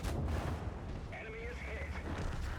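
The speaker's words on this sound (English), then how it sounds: "I'm getting hit for 500 from artillery" Artillery rounds in a tank battle game strike the player's vehicle, producing low rumbling booms and impacts over a continuous noisy battlefield din, with a brief voice in the background.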